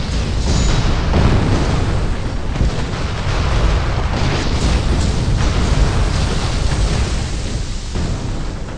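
Cannon blasts in the Wild West video game Gun form a dense, continuous barrage of rumbling booms and bursts. The sound stays loud and sustained throughout, with no pauses between the explosions.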